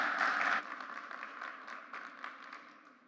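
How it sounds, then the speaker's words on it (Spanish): An audience applauds a conference speaker, a burst of clapping that peaks at the start and then tapers into scattered claps, fading toward the end. "Un aplauso para ella, por favor."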